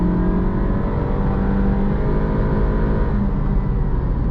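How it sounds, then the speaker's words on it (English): A 2023 Acura Integra A-Spec with a CVT accelerates at full throttle, its engine holding a steady, droning note close by for several seconds with no talking. "It's not as satisfying when you go to floor it like that."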